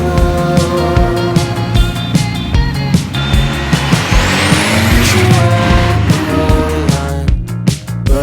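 A 300 bhp Ford Escort RS Cosworth pulls away, its engine revving loudly up through the gears close by, with a rising pitch sweep and tire noise as it accelerates off.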